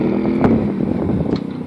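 A 1982 Yamaha Virago 750 motorcycle engine idles nearby with a lumpy, throbbing beat and a brief rise in revs.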